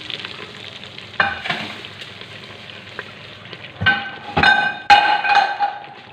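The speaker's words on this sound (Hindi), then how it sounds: "अब ये देखें हम इसको लगा देंगे तड़का" Hot tempering oil sizzles as the tadka is poured over yakhni dal, a steady crackle with sharp clinks and louder bursts of frying near the end, close and without talk.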